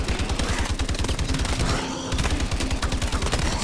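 Sustained rapid gunfire from a gun in Call of Duty Exo Zombies, loud and close, rattling steadily with a brief pause partway through.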